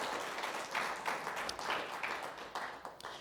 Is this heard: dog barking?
no